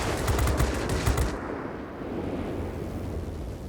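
Rapid automatic cannon fire from an XF15C fighter in World of Warplanes, a dense rattling burst of heavy shots that stops abruptly and leaves a low engine roar droning on.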